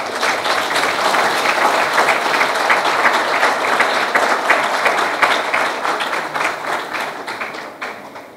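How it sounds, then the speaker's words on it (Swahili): Members and guests of the Simba club applaud warmly for Jairut, a loud, sustained roar of many hands that holds steady and then fades toward the end. "hebu tupate makofi mengi kwa Jairut."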